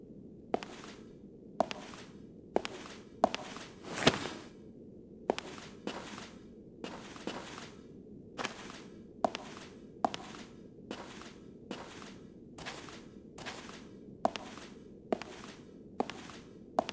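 Footsteps in the video game Fragile Dreams, a steady series of crisp, separate steps, about two every second. They sound close and fairly light against a quiet, low background hum, with no talking.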